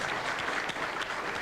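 Sustained applause from an appreciative crowd at a professional nine-ball billiards match, a dense steady clatter of clapping filling the whole stretch at moderate level.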